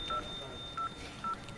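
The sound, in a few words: telephone number being dialed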